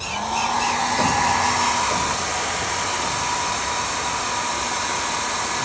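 A hair dryer blows steadily and close on a pigeon whose feathers have been dyed with colour, a continuous loud airflow whine with no pauses.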